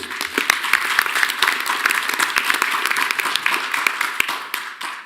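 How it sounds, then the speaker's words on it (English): Audience applause fills a university Board of Regents meeting, a dense steady wash of many hands clapping close by with a few sharper individual claps standing out, fading slightly at the end. "let's give Keith a round of applause"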